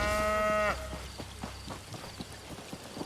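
Cow mooing in the game The Elder Scrolls Online: one loud, close, drawn-out low moo that cuts off, then quiet footsteps and ambient game sounds.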